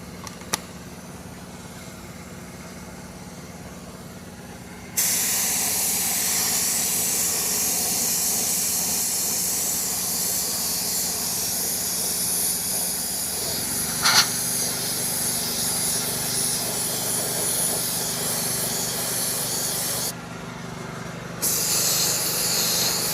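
Clear coat sprayed onto a repaired BMW X5 machined wheel rim with a silver painted inset: a long, steady, close spray-gun hiss that starts suddenly, runs for about fifteen seconds, pauses briefly, then resumes over a low background hum.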